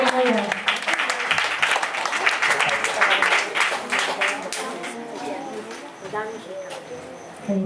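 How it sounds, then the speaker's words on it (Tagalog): A church congregation claps together, a bright, rapid patter of many hands that gradually thins and fades, with a voice speaking over the end. "Palakpak para sa ating Diyos na buhay."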